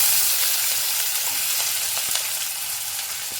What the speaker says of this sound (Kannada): ಈಗ ಆನಿಯನ್ ಹಾಕ್ಕೊಳ್ಳೋಣ.